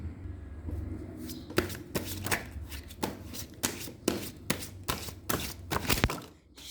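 Tarot cards are shuffled by hand in a quick series of crisp riffling slaps and taps, close and fairly quiet, with no talking.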